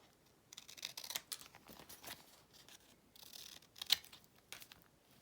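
Scissors trim acetate from a decorated photo sleeve in a quiet crafting setting, with several close, crisp snips and rustling plastic over about five seconds.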